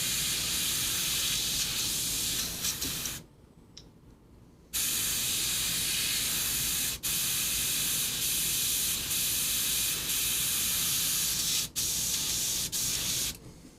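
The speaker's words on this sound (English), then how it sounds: "spray a little water through it" A steady, loud hissing spray of water through an airbrush runs continuously, broken by one short pause and a few brief clicks before the spraying resumes.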